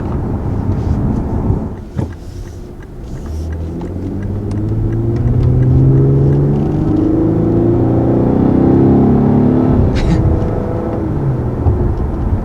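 Inside a 2020 Lexus GS 350 cruising around 55 mph, a low road and engine rumble swells as the car gets up to speed, with faint clicks and bumps over the steady hum.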